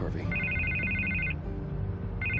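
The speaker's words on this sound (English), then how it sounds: "I can't get the phone to stop ringing." A telephone in Batman: The Telltale Series rings with a repeating electronic trill, two bursts separated by a pause, under and between a man's speech.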